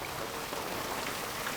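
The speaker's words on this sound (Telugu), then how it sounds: "వడగళ్ళ వర్షం కొంచెం డేంజర్" Heavy rain with hail and strong wind during a storm in Hyderabad makes a dense, continuous roar of drops hitting surfaces, steady and close with no voices.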